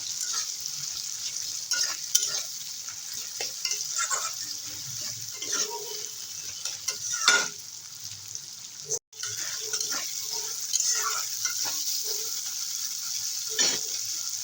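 Spice masala for a fish-head curry is stir-fried in a pan, with a soft continuous sizzle and intermittent scraping strokes of a spatula, fairly quiet and close.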